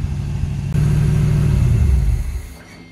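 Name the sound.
1981 Chevrolet Corvette Turbo engine running after 30 years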